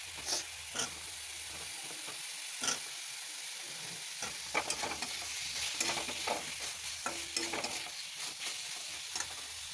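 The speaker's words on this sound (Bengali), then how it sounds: "মশলা ভালো করে কষানো হয়ে গেছে, মশলা থেকে তেল ছেড়ে দিয়েছে। এখন দিয়ে দেবো আলু।" Potatoes going into fried spice masala in a pan, a steady close sizzle and hiss of oil with scraping, clacking stirs of a spoon throughout, no talk.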